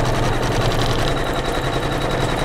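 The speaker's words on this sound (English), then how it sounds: "So it's going to stitch around it twice" An embroidery machine stitches around felt, a loud, close, steady mechanical whir with a fast regular rattle of the needle, continuous and unbroken with no voices.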